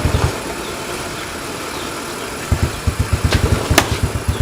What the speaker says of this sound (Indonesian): Ih, motor sih mau mati.